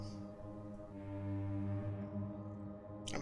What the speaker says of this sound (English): I'm honking the horn